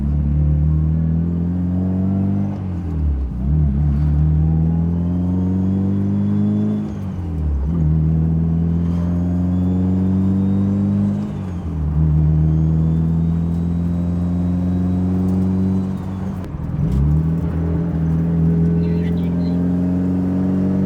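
A fully built Mitsubishi Evo 9 engine revs up repeatedly, rising in pitch then dropping at each gear change, loud and close throughout with no talking.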